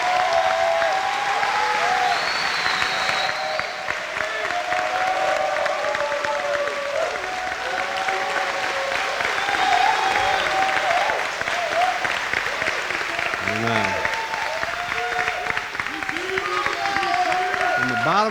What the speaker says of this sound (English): stand and give them a round of applause and great appreciation